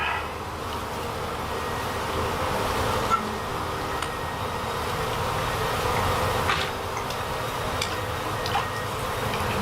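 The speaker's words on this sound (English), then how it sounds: "The bees will move out of your way." A honey bee swarm buzzes steadily inside a shed, a dense continuous hum close by with occasional faint clicks and handling noises, no speech.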